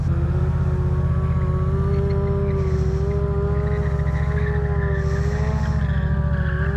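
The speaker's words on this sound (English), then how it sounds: "that tire is loud" A motorbike, ridden in a stunt on a flooded, lake-like surface, revs hard and steady as its rear tire spins loudly, a continuous roaring whine with a shift in engine tone partway through.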